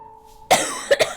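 A quick burst of coughing in the visual novel Umineko When They Cry, one harsh cough followed by two shorter ones, close by after a faint tone fades.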